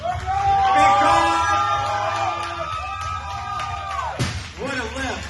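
A crowd at a powerlifting meet cheers and yells loudly for a final deadlift, with sustained shouts and whoops from several voices rising and falling.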